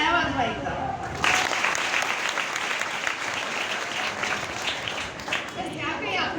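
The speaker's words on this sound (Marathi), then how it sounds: "तुम्ही तुमच्यासाठीच टाळ्या वाजवायचा" A group of schoolgirls applauding together, a sudden burst of dense clapping that swells and holds for several seconds before tapering off, preceded by a voice speaking.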